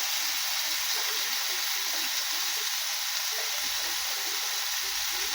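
Turmeric powder and spices fry in a pan with a steady, close sizzle throughout, and soft stirring scrapes are heard underneath.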